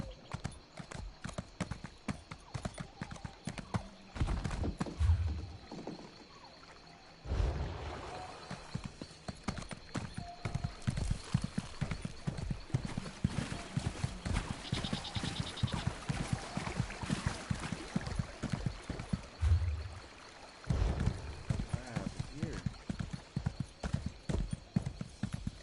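Steady clip-clop of horse hooves trotting throughout in The Elder Scrolls Online on PS4, with brief pauses and a faint whinny-like sound, fairly close and continuous.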